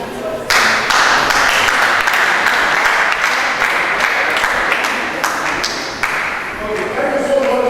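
Audience at a school inter-school debate clapping steadily for several seconds, a dense, fairly close round of applause with scattered louder claps, fading slightly toward the end.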